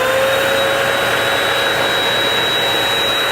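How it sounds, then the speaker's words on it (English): An Earlex 5000 HVLP paint sprayer turbine runs steadily with a loud, constant vacuum-like whine and airy roar, close by and unbroken, with no talking. "it's loud, and to me it sounds like a shop vac"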